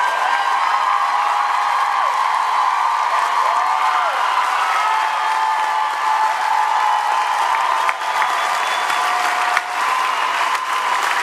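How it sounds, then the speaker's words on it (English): Loud, sustained applause fills a large convention hall as the audience at a San Diego Comic-Con panel greets the cast of Supernatural, with steady clapping and faint cheers throughout. "round of applause for our cast"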